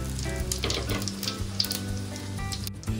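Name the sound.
spices frying in white oil and mustard oil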